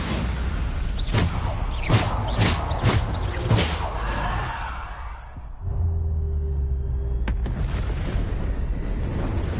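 Bombarda explosion spells go off in Hogwarts Legacy combat as a rapid volley of loud booming blasts, followed by a rumbling, swooshing magical aftermath and a sharp crack near the end.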